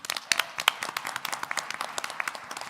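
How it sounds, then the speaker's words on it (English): Scattered, fairly sparse clapping from a conference audience at a plenary session, individual claps distinct and irregular, moderately close and somewhat quiet, with no voices over it. "A big round of applause for Achim and Malcolm."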